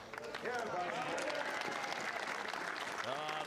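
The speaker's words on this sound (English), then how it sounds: "Ah, the crowd has come alive, haven't they?" A crowd cheering and applauding at a men's triples lawn bowls final, sustained clapping and shouts swelling loudly, with voices talking over the noise.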